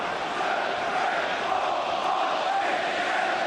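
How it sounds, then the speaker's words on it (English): A large stadium crowd at a Premier League football match between Birmingham City and Manchester United chants in unison, a loud, dense and steady roar of many voices filling the stands. "The crowd counting out the paces to accompany Mark Halsey's theatrical march"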